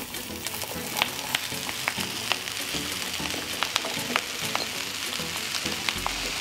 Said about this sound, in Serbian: Na zagrejano ulje spustit ću povrće da se prži.